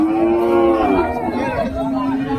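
Cattle moo loudly and close by at a village livestock market, one long sustained low call followed by another, with market chatter faint in the background.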